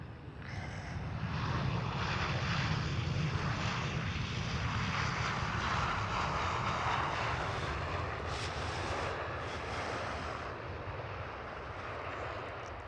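A KLM Boeing 737 arriving on the Polderbaan, runway 18 right at Amsterdam Schiphol, gives a loud, steady jet roar with a deep rumble that holds for the whole stretch and eases slightly near the end, with no voices over it.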